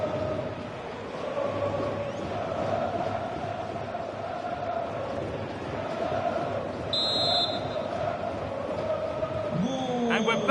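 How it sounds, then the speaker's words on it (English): Stadium crowd in the EA FC 26 football video game during a Sporting CP match, a loud continuous roar with swelling chants filling the whole span, and brief electronic tones near the end. "Well, just listen to this crowd."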